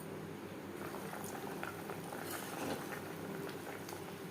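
Bhetki fish simmers in a mustard-paste gravy in a pan, a steady quiet bubbling and sizzling with small pops, heard alone without talk.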